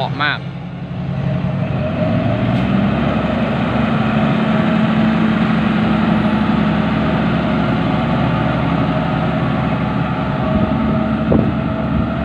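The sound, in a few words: sand truck engine and exhaust pipe sound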